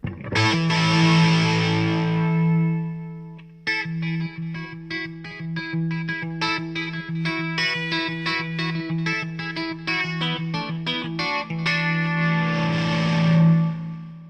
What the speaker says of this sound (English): If you've got a very distorted sound, you can turn the level down on the volume control